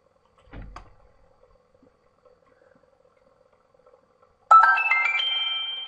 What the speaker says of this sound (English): now you hear the two notifications